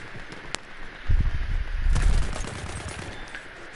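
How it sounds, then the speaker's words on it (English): Distant automatic gunfire in Battlefield 1 rumbles in low, muffled bursts over an ambient outdoor bed, with a sharp crack near the start. "I'm getting fired at"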